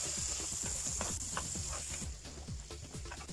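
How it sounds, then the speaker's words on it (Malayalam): Masala and green chillies sauté on high flame for mutton kurma, a soft continuous sizzle with faint stirring scrapes, quiet and steady with no voices. "ഇനി നമുക്കിത് നന്നായിട്ടൊന്ന് വഴറ്റിയെടുക്കണം"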